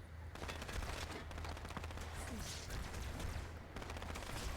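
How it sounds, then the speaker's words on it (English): Rapid gunfire from Halo 2 within the Master Chief Collection, played on an Xbox Series S, crackling over a steady low game rumble with repeated close shots spread across the stretch. "We can snipe in here"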